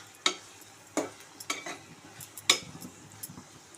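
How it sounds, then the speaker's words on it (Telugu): Vegetable paste being sautéed and stirred in oil in a pan, with a soft low sizzle under a few sharp spoon clinks against the vessel at irregular intervals. "ఇలా కలుపుకొని నూనెలో మగ్గించుకుందాము ఒక 5 మినిట్స్"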